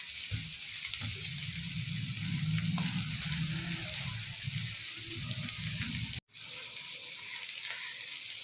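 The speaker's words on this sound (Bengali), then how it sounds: "এখন দেবো আমি সিদ্ধ করা চাউমিনগুলো" Boiled chow mein noodles frying in a pan with vegetables, a steady close sizzle with stirring scrapes throughout, briefly cut off near the end before resuming.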